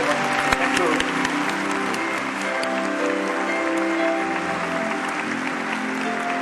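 Sustained applause from a church congregation, steady and full throughout, with a sustained musical tone underneath and some voices mixed in.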